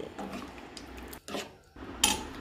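Sambar curry stirred in a pot, a spoon scraping and clinking against the metal in a few short bursts, close and fairly quiet, with brief gaps between strokes.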